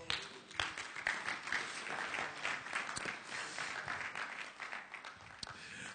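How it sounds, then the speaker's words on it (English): Applause from a church congregation during a sermon, a steady, moderately distant spread of many hands clapping with some crowd murmur. "I thought you would clap there."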